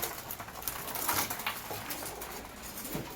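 Pigeons in a breeding loft coo faintly amid soft rustling and light pattering of movement, low and somewhat distant, with no one speaking.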